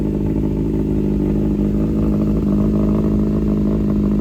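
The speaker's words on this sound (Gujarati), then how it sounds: "અમારી બાઇક સ્ટાર્ટ થઈ ગઈ છે" A motorcycle engine runs at a steady, loud idle close by, its continuous low rumble holding even throughout with no pauses and no audible talk.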